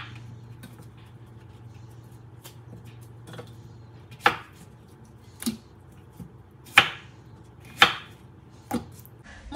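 A knife slices through cleaned vegetables on a cutting board, giving about six sharp, separate chops spaced unevenly over a few seconds. They sound close and distinct over a low steady hum, with no talking.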